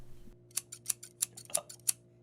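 A pair of scissors snips about seven times in a quick, uneven rhythm. The cuts are sharp and quiet over a faint steady hum, with no voices.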